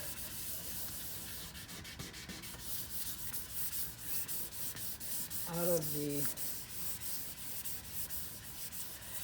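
Hand sanding of a decal on an RV, a steady back-and-forth scratchy rasp, close and continuous, with a brief short voice in the middle.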